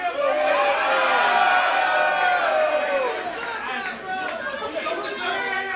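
Wrestling crowd in Yarmouth reacting, a dense roar of cheering and shouting voices that stays loud, then eases slightly toward the end.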